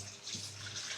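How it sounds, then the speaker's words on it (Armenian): Water pours out of a pot during marinade preparation, a short, faint, steady rushing hiss with no other sounds. "Սա արդեն երկրորդ անգամ է դատարկում ջուրը։"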